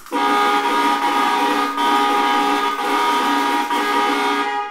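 Electric bike horn honking repeatedly, a loud, bright electronic tone sounding in several long blasts with short breaks between them, close to the microphone and alone.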